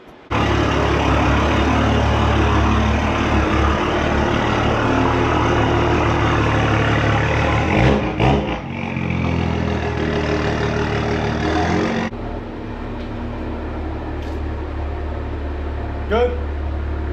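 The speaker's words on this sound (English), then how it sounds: "get a quick little cold start" A BMW M235i engine cold-starts with a sudden loud catch and settles into a high, steady fast idle that drops lower after a few seconds, with a person speaking briefly.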